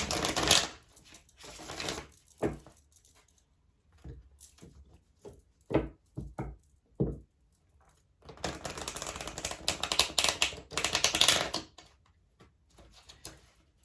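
Tarot cards being shuffled and riffled, bursts of papery flapping separated by sharp taps and quiet gaps, close by with no voices.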